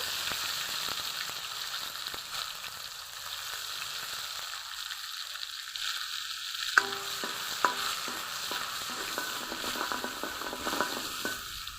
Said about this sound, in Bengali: ভালো করে মশলাটা কিছুক্ষণ কষিয়ে নিতে হবে